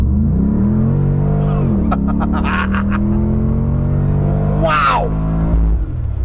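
A Land Rover Defender fitted with a Corvette V8 accelerates with a steady, loud engine drone that rises in pitch, heard from inside the cabin while a person exclaims briefly over it.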